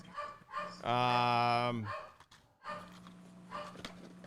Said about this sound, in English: Oh, my dog is losing his mind.